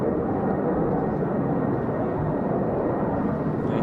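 A Eurofighter Typhoon jet roars steadily overhead as it performs a break before landing at an air show, a dense, loud, unbroken rumble with no speech over it.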